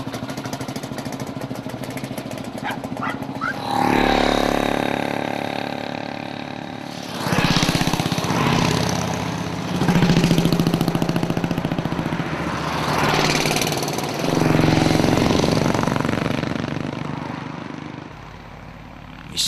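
A small race car with a 200 engine pulls away at the start of the Skagen race, its engine rising in loud revving bursts that repeat and fade, heard alone without voices.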